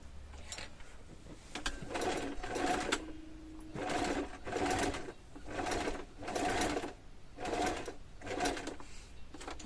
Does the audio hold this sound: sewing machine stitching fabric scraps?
yes